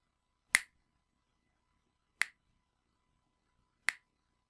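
Three crisp, isolated finger snaps ring out about every one and a half seconds, sent through a three-way delay with no feedback. Each one is sharp and close with a quick decay into silence.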